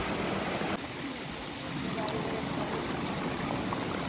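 A mountain stream at a village drinking-water intake flows in a constant, close, even rush of water that fills the whole clip with no pauses.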